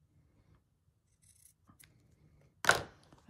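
Small scissors make a single crisp snip while trimming embroidery thread, near and quiet, after faint rustling of fabric.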